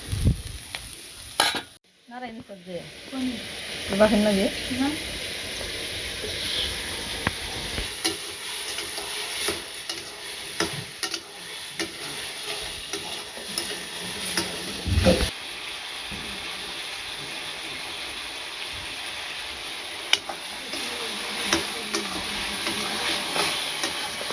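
Papaya bhaji stir-frying in a pan over a village stove, with a continuous sizzle and hiss, occasional spatula scrapes and stirring clinks against the pan, close up throughout.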